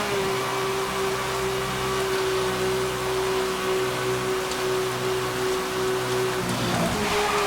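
Continuous rainfall hiss in the video game Need for Speed: Hot Pursuit (2010), even and unbroken, with a low car engine hum running underneath.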